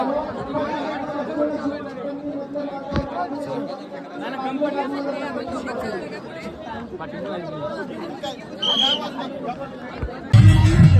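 A crowd at the Shivrajyabhishek festival fills the air with dense, continuous chatter and babble of many voices close by, with a loud burst of noise at the very end.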